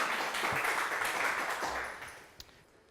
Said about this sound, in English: Round of applause for Gerald.